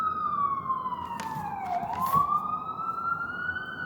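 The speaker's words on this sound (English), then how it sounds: "I hope you guys can really hear out the siren outside." A loud siren wails steadily, its pitch sweeping down then rising again, with traffic rumble underneath.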